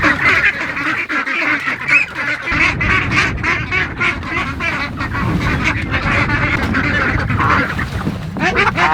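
A flock of ducks quacks and honks continuously and close by on a cold, rainy homestead morning, a dense overlapping chorus of calls with a steady wet background wash.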